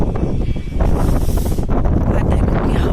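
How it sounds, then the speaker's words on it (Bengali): Strong outdoor wind on a cloudy pre-rain day buffets the microphone with loud, continuous rumbling gusts, swelling and easing without a break. "এত হাওয়া, বুঝতে পারছি না তোমরা হাওয়ার আওয়াজ শুনতে পাচ্ছ কিনা"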